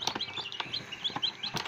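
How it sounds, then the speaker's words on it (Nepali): Newly hatched Kadaknath chicks on a fancy chicken farm peep in a faint, high, continuous chorus of overlapping short chirps, with soft scuffling and taps nearby. "यहाँ थुप्रै निक्लेछ कडकनाथको"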